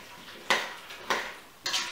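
Three distinct scraping clinks of a utensil stirring cucumber relish ingredients and turmeric in a pot, evenly spaced with quiet pauses between, no talking.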